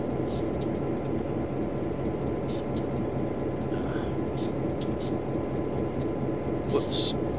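Steady low rumble of a train rolling along in Train Simulator 2014, a continuous heavy drone with brief higher clatter bursts, running under a voice talking.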